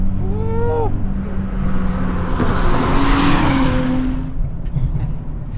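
A sports car engine accelerates under way toward high revs, with a rising engine note climbing over a swelling rush of road and wind noise, loud and close.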